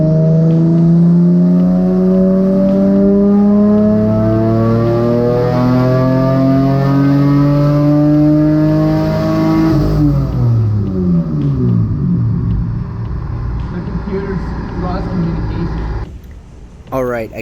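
A twin-engine Mazda MX-3 with Megasquirt tuning runs a dyno pull, its engine note climbing steadily to a loud high rev before dropping away and fading into a rumble.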